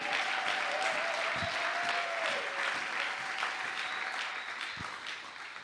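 Church congregation applauding and acclaiming God, sustained dense clapping from many hands filling the room, with faint cheering voices mixed in, slowly easing toward the end.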